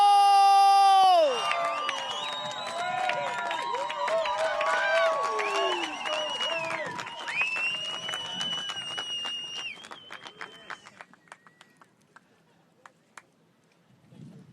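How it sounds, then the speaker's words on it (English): Crowd at the Nazaré big wave surfing event in Portugal cheers and whoops, with applause building under tonal music and an announcer's voice, then thinning to scattered claps and shouts before fading near the end. "I want to hear a huge Nazaré round of applause representing France"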